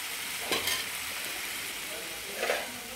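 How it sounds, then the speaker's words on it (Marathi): Vegetable curry stirred in a pan over a low gas flame, a soft background sizzle broken by two short scraping stirs, fairly quiet and close. "छान मिक्स करायचं आणि गॅस मंदच ठेवायचा आपल्याला"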